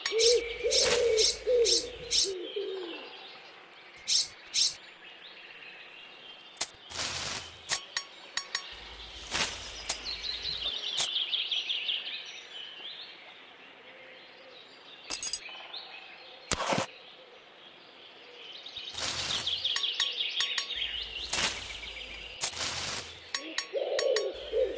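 Birdsong from The Brave Little Tailor game, with soft dove-like cooing, sharp clinking chirps in scattered bursts, and quieter stretches between calls over about twenty-five seconds.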